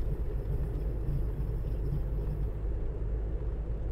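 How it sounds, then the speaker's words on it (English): An engine strains continuously while driving in the video game Road 96, a low, heavy rumbling drone that stays steady and fairly loud throughout with no talking over it. "We listen to nothing as our engine screams"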